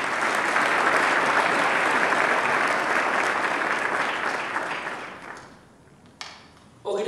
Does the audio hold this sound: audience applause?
yes